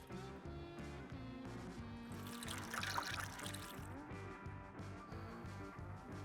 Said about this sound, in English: just gonna take some of the water again. We're just gonna gently pour on top to rinse it all off